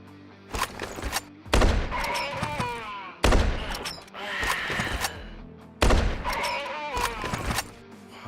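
Gunfire at enemies in the video game Quasimorph, heard as three separate loud volleys of shots, each followed by ringing, clattering game effects, with short quieter gaps between.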